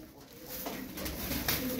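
A Kadro Kızıl Şekeri pigeon coos softly in a few low, brief calls against a faint, airy background.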